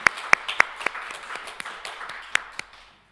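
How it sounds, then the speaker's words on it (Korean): Congregation applause during a Sunday church service, a thin scatter of claps with a few sharp, close hand strikes standing out, gradually thinning and fading to silence. "하나님께 영광의 박수 올립니다."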